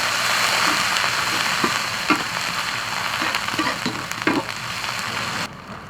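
Homemade pickled greens hit hot oil in a wok and fry with a steady, close sizzle. Soft stirring knocks punctuate it before the sound drops away at the very end, with no talking.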